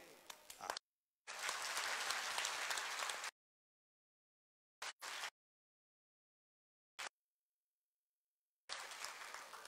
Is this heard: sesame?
no